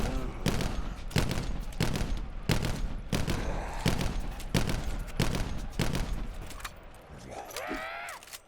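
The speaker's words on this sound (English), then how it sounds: "for the Auger DMR, you get a mod called Double Tap that turns the weapon into a 2-round burst from a semi-auto" Auger DMR with the Double Tap mod in Black Ops 4 Zombies, firing steady paired two-round bursts as sharp repeated cracks about every half second, loud and alone, ending in a short game tone.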